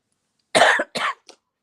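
Two harsh coughs close up, followed by a short, faint third cough, with silence around them.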